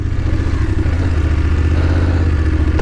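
A motorcycle engine drones steadily and loudly up close with a low rumble and some rattling as the bike rides a slippery mountain road toward Shipki La Pass.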